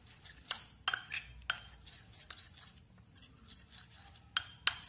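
A spoon clinks and scrapes against a small glass or bowl while stirring homemade potato cream with a vitamin E capsule, several sharp taps scattered over a quiet background.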